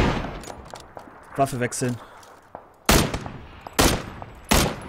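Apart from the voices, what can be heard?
gunfire in video game PUBG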